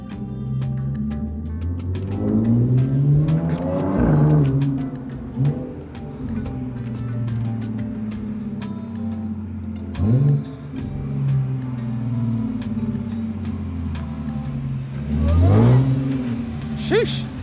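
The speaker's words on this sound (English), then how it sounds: "Sheesh, that supercharger though." A VW GTI with a hybrid turbo and supercharger revs repeatedly, its engine note climbing in sharp pulls and dropping back between blips, close and loud, with a voice speaking briefly over it.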